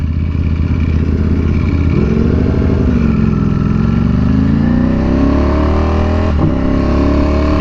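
Ducati V4R motorcycle with a new aftermarket exhaust, no catalytic converters and a new air filter, riding in cold weather: loud, close engine drone rising and falling as it revs, with a brief shift blip.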